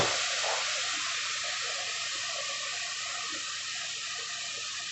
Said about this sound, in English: We're going to be adding some regular tap water, some water, maybe about a third or a quarter cup.